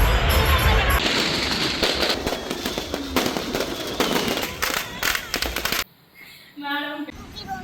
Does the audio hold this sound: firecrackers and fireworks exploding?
yes